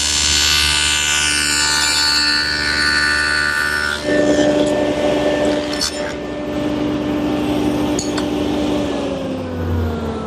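A power saw cuts hardwood stock run through a jig in a woodworking shop, a loud steady whine that drops into the rougher tone of the blade in the wood partway through.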